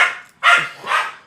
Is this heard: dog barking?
yes